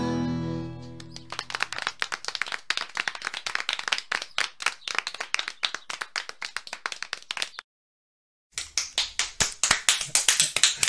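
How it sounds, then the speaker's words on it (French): A live studio audience claps in a dense, fast patter that runs for several seconds, breaks off into a second of silence, then resumes just as loud and close. "ils applaudissent dans le public, ils sont en furie"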